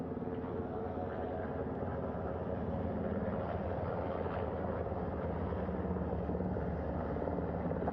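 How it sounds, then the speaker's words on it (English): A helicopter's rotor drones loud and steady throughout, a dense throbbing roar that holds close without fading as it comes in to land on a ship's flight deck. "The first helicopter coming in."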